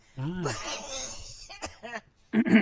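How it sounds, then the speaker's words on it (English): A raspy cough mixes with wheezy chuckling and a throaty, cackling sound, close up, ending in a louder burst. "You sound like witchy poo having a cough"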